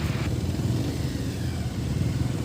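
A motorcycle ridden along a road, its engine droning steadily up close with a low rumble and road noise throughout, no voices.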